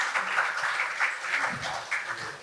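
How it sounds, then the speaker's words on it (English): Audience at a book launch applauding, a dense wash of clapping with rising and falling swells, moderately loud and fairly close, with no voices over it. "I request the audience to give a big, generous round of applause"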